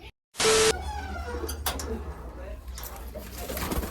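Racing pigeons from Balagtas, Bulacan coo softly at a loft after a short sharp noise burst, with low repeated coos under faint background sounds and a voice nearby.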